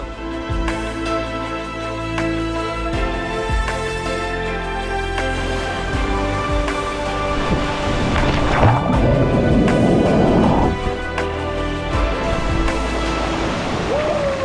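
A waterfall at Baho Waterfalls near Nha Trang, Vietnam, pours in a continuous close, loud roar of rushing water that swells slightly midway through.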